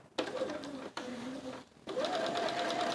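A sewing machine stitches a quilt along a marked line in quick bursts: three short runs of rapid, buzzing motor whir separated by brief pauses, close and clear.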